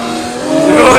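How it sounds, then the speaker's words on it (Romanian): Two BMW cars race on a drag strip at an airport, their engines roaring loud and close with a rising pitch as they accelerate, no voices over it. "Clasica cursă între două BMW ursuleți."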